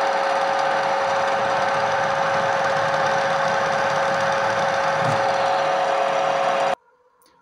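A 12 mm drill bit bores through metal while making a bodywork hammer, a loud steady grinding whine with a constant pitch that runs unbroken for several seconds and then cuts off abruptly into quiet.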